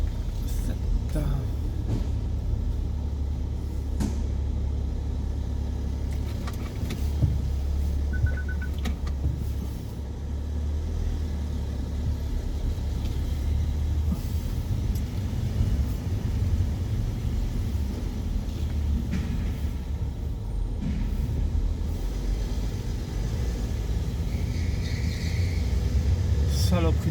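A car manoeuvres in a cramped hospital parking lot in Lausanne, its low engine rumble and road noise heard from inside the cabin throughout, with people talking over it.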